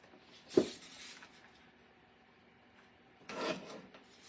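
Scrap paper is trimmed for a scrapbook layout: two quiet, brief rasping cuts about three seconds apart, close by in a faint, otherwise still room with no talk.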